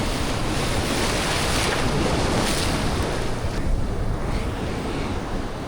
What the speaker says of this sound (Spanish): Pero hay muchas olas